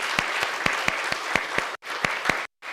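Church congregation clapping at a Christmas service, with sharp, fairly regular individual claps from a nearby group, ending in abrupt cuts.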